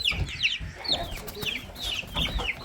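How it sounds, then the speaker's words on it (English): Young chicks and chickens outdoors give repeated soft clucks and high chirps close by, overlapping in quick, uneven bursts. "I had these little chickies outside earlier with me."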